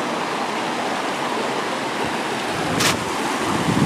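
Crystal-clear water flowing through natural rock pools outdoors, a steady broadband rush that holds constant throughout, with no voices and a brief louder splash near the end.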